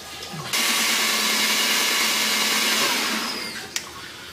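Grinding machine whirs steadily for about three seconds while polishing a small metal ingot sample mounted in epoxy, a loud even hum that starts abruptly and fades, with a brief knock near the end.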